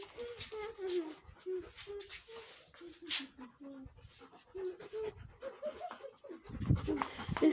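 Small dogs panting rapidly and rhythmically close by, quick breathy huffs with a few faint whimpers, while a person speaks over them.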